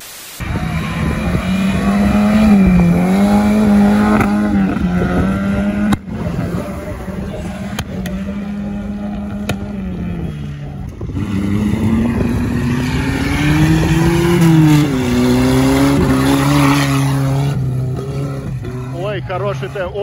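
Off-road cars in a sprint race roar with revving engines that rise and fall steadily, loud and close, while a voice talks over the engine noise throughout.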